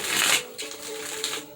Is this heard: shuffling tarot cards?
yes